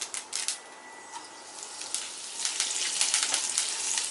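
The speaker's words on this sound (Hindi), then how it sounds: "राई क्रैकल हो रही है" Mustard seeds crackle and sizzle in hot oil for a South Indian tempering, close up, with sharp scattered pops over a steady frying hiss that thickens toward the end.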